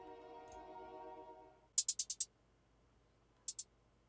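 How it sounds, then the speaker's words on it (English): A quick burst of five crisp hi-hat ticks, silence, then two more ticks, after a fading sustained synth tone at the start, in a UK drill beat. "for this beat I use another hi-hat pattern which sounds like this"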